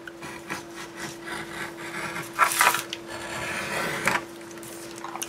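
A saw cutting around an MDF baby bottle shape, with rough, uneven rasping strokes that rise and fall and swell briefly in the middle, close and fairly quiet.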